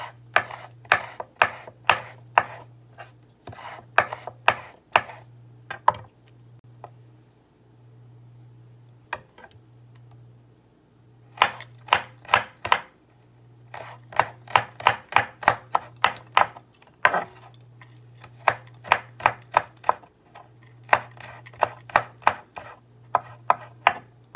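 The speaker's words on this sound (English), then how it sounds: "For the rosemary, you could just chop it up into little pieces." Rosemary chopped into little pieces on a cutting board for a beef chuck stew: quick, crisp knife strikes in rhythmic runs with short pauses, over a steady low hum.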